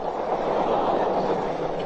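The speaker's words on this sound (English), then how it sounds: "I could hear distinctly the train coming through the long tunnel" An electric train rumbles through a long tunnel as a dense, steady roar of wheels and motion, loud and continuous with no clear beats and no voices over it.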